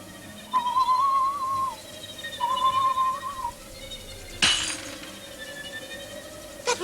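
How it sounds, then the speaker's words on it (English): A pane of glass shatters in a single sharp crash at night in an old country house, rising suddenly over a quiet background of intermittent whistled tones and ending with a brief trailing tinkle. "That was glass breaking, Fritz."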